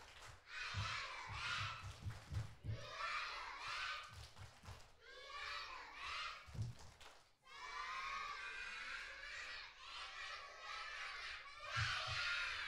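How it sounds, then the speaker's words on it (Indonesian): Kindergarten children at a school performance event shout a rhythmic tepuk semangat clapping chant together, with bursts of sharp claps between loud group voices, close and lively throughout. "mari kita tepuk semangat. Tepuk semangat."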